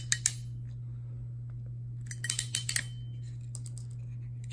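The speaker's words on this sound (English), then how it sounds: "And now a cut and a crimp." Klein Tools VDV226-110 pass-through crimper cutting and crimping network cable: a sharp snap at the start, then a quick cluster of small metallic clicks, all close and fairly quiet over a steady low hum.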